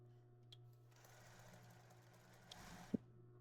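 A sewing machine backstitches fabric for a plus-size body garment with a brief, quiet burst of rapid mechanical stitching under a steady low hum, ending with a small clunk.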